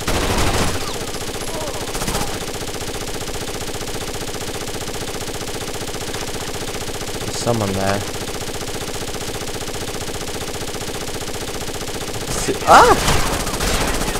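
Gunfire in the tactical shooter Rainbow Six: Las Vegas 2 during a Terrorist Hunt on the Streets map, a steady rattle of automatic shots through most of the stretch with a louder burst near the end, under players talking and a sudden shout.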